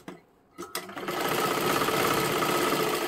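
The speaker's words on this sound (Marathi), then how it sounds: "ही झाली डबल शिलाई." A sewing machine runs a double line of stitching on a princess blouse, starting after a couple of clicks and building into a loud, steady, continuous whir close by, with no talking.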